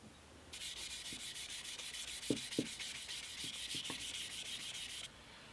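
Fine 1000-grit sandpaper rubs over a cured superglue (CA) finish on a small wooden coffee table in quick, regular back-and-forth strokes, soft and close, with a few firmer knocks midway and no talking.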